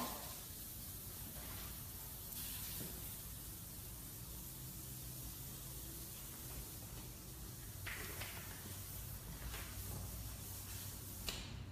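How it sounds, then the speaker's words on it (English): A strong-hold hairspray hissing steadily onto short curly bob-cut hair during a salon finish, one continuous close spray with a few faint variations. "strong hairspray, Stavnus, strong hold"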